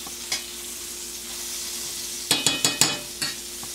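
Butter sizzles steadily in an overheated frying pan, a broad hiss running throughout, with a quick run of sharp scraping or tapping knocks from utensils against the pan near the end.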